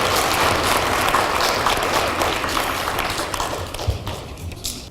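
An audience at a school quiz competition applauds the team, a dense burst of clapping close by that gradually thins and fades toward the end.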